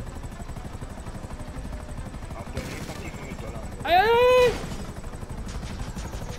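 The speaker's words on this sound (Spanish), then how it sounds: "Estoy llegando, pero que hay helicóptero también." A helicopter in the video game GTA V Online drones steadily throughout, while a player's voice cries out briefly partway through.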